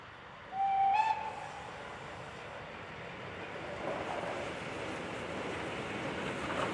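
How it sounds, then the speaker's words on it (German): Steam locomotive 58 1111 hauling a special train, running tender-first near Pulsnitz Süd in Lusatia: a short whistle blast early on, then a steady distant rolling rumble of the passing train. "Der Zug macht in Arnsdorf Kopf und fährt nun Tender voraus weiter nach Straßgräbchen-Bernsdorf."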